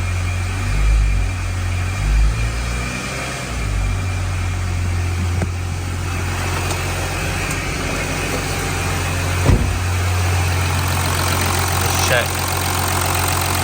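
VW Touareg 7P 3.0 V6 TDI diesel engine idling after an oil change, a steady low close-up rumble with a few small knocks and clicks, with someone talking over it.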